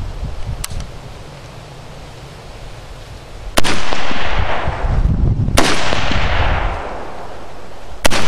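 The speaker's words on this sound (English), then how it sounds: "I'm shooting at the bottom plate, and it is hitting high" Outdoor gunshots fired at steel target plates: a few loud, sharp bangs spaced seconds apart, each followed by a long rumbling decay.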